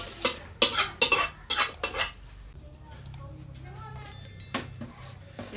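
Dalcha is stirred into a pot of chicken salna: a run of loud metallic scrapes and clanks from a spoon against the pot, followed by quieter stirring and one more clink.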